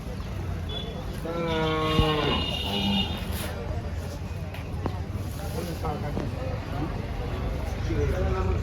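Malvi bulls low in long, deep moans at a busy livestock market in Betawad, close by, with people talking throughout and other calls in the background.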